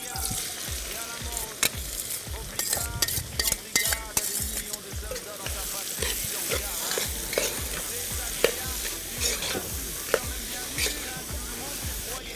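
Onion frying in a pan as a spoon stirs it, a continuous sizzle broken by rapid, repeated scraping strokes, close and fairly loud throughout.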